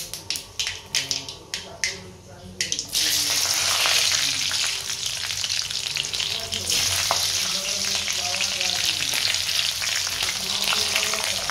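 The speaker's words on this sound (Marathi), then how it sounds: "मटार ना उडती 2 मिनिटं त्याच्यावर झाकण ठेवतो" Green peas spluttering and popping in hot oil in a pan, a run of sharp crackles giving way to a steady, loud sizzle that continues close up throughout.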